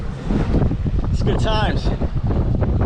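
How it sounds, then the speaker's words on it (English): A Pearson 26 sailboat under sail in Greenwich Bay, Rhode Island, with no engine running: steady rushing water and heavy wind buffeting the microphone throughout, loud and close, while a person speaks briefly partway through. "No engine noise. Just the boat cutting through the water."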